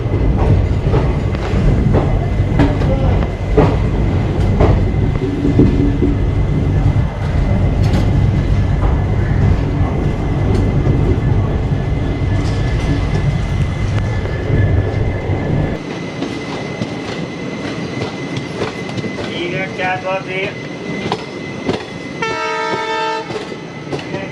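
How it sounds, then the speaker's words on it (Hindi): The Barmer–Yesvantpur AC Express crosses on the adjacent track near Solapur, heard from aboard another train. A loud, steady rumble and clatter of wagons fills the first part, then eases, and a horn sounds in repeated blasts near the end. "दूसरी तरफ हमारे क्रॉस हो रही है बाड़मेर यशवंतपुर AC एक्सप्रेस"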